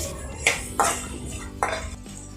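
A spoon clinks and scrapes against a metal pan as cumin, black pepper and cinnamon are mixed in for a Mangalore-style fish curry: a few sharp, close metallic knocks over a low background hum.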